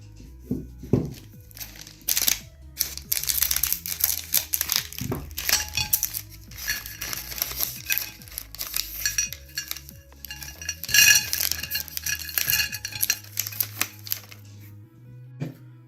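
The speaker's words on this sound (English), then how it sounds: "Okay, and let's cut it open." A double rich matcha snack bag made in Indonesia is cut and torn open. Busy close plastic crinkling and rustling bursts mix with small clicks and clinks, without speech.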